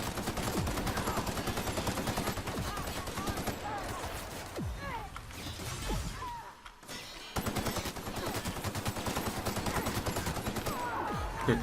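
Rapid machine gun bursts in the sci-fi shooter The Outer Worlds, dense continuous gunfire close and loud, briefly pausing midway before resuming, with a player talking over it.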